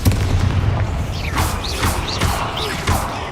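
Repeated Confringo fire-blast spells in the video game Hogwarts Legacy, a run of booming impacts with whooshing bursts and rising magical chirps over a low rumbling game soundtrack, close and punchy.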